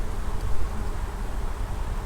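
Honeybees at a hive give off a steady, dense buzzing drone, close and continuous, with a low rumble of wind or handling underneath and no speech.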